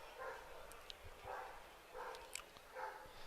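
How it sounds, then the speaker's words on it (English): Several dogs bark in scattered, repeated bursts at a distance during a dog night at a baseball game, faint over a steady crowd murmur. "loud cries here at Bark at the Park night. Yeah, a lot of dogs here tonight."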